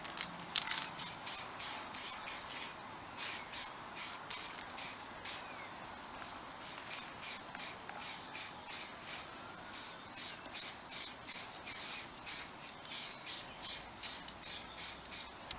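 Phosphoric acid is brushed over a GY6 Chinese naked scooter frame to treat leftover rust, giving a steady run of rhythmic, close scrubbing strokes with a hissy, rasping texture and no talking.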